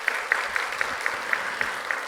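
A church congregation claps steadily during a Sunday afternoon worship service after the choir sings, a moderately loud wash of many hands with a few sharper individual claps standing out, no voices over it.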